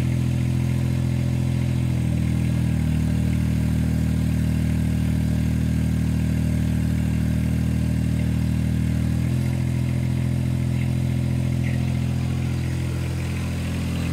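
A John Deere 1025R compact tractor engine idles steadily while warming up, with a low, even drone that runs the whole time and rises and dips slightly a few times. No voices.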